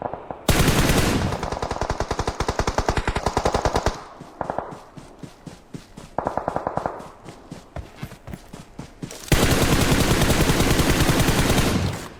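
Rapid automatic gunfire in the PUBG Mobile battle royale game comes in long sustained bursts at the start and end. Shorter volleys and scattered single shots fall in between, loud and close, with no audible talk.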